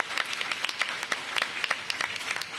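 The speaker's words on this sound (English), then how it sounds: "Let's give them a big round of applause." A small crowd at a mayoral school-improvement event gives light, scattered applause, a brief patter of claps at moderate distance.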